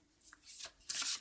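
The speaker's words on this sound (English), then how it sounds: "let's get a couple more cards so I don't have to keep shuffling these" Quiet, close riffling of playing cards being shuffled, in a few quick papery bursts.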